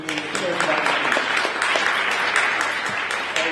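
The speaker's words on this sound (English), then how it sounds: "So give yourselves a round of applause for really being part of a great community that cares about your kids." An audience at an education forum claps steadily, a dense wash of applause filling a hall for a few seconds, with some voices mixed in.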